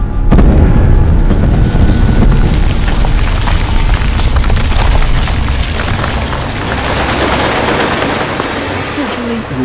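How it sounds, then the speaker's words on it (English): Floor caving in during the Tunnels VR horror game, heard as a loud, sustained rumbling crash with booming debris that continues for several seconds, with some speech faintly mixed in. "the entire floor gives way."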